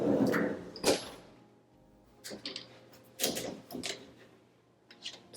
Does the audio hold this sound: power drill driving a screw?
no